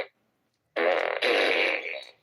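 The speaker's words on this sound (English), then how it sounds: "We can't have fun without farts." A single loud fart lasting about a second and a half, starting after a short silence, with a rough buzzing texture and a brief break partway through before it tails off.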